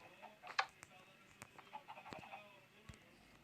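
Chickens cluck and squawk in Minecraft in short scattered bursts over a faint background hum, with a few sharper calls rising above the rest.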